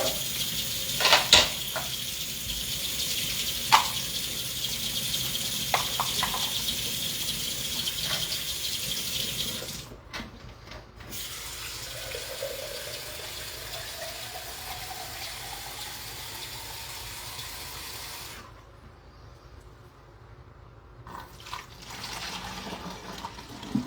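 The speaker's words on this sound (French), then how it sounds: "Alors, 375 ml d'eau. On va prendre de l'eau un petit peu chaude." Warm water runs steadily from a kitchen tap into a measuring jug, a continuous hiss and splash that briefly cuts out twice, with no talking.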